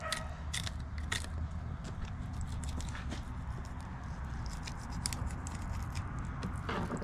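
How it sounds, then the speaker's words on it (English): A fillet knife scraping and tapping against the rib bones of a buffalo carp during cleaning, heard as a continuous run of faint crackly clicks and scrapes close by, with no talk. "You guys hear my knife there hitting those ribs"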